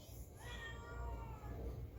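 A cat in heat meows in the background, a drawn-out wavering cry over steady low rumbling room noise.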